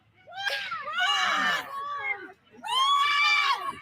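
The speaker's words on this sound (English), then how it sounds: "Listen to all the women freaking out and screaming." Women in a crowd shriek in two long, loud bursts of high-pitched screaming, the first wavering over about two seconds and the second after a brief dip, with no clear talk.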